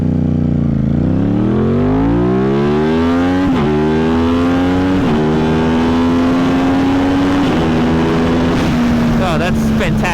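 An Aprilia RS660 sport motorcycle pulls away from a stop in first gear and is held wide open, its engine note climbing steadily and loud throughout, with a brief shift-like break near the middle and no talk.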